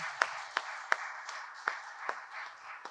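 Audience applause at a Hindi spiritual talk: a steady wash of clapping from a crowd, with a few sharp, louder individual claps cutting through at irregular intervals.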